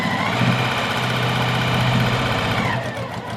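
A sewing machine runs steadily along a seam of a quilted patchwork tote bag, giving a loud, continuous rapid whirring hum that slows near the end.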